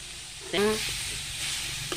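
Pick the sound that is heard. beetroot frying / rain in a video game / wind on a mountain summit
beetroot frying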